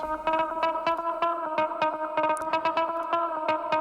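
A plucky synthesizer tone repeats in a quick rhythmic pattern, drenched in effects like chorus and echo, steady and fairly loud throughout.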